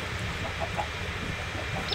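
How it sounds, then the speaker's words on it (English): In the video game Minecraft, played with the Tekkit modpack, a few faint, soft chicken clucks rise briefly over a steady background hiss. "Chickens stuck in there, it's been breeding for decades."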